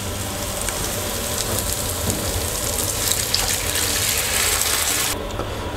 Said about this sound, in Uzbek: Endi suv solib olamiz.